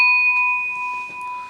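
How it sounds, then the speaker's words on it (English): A single strike of a small desk-style bell during a wrestling news show, its clear metallic tone ringing out at once and sustaining steadily while it slowly fades, close and fairly loud with no talking over it. "I'm gonna have to ding the bell"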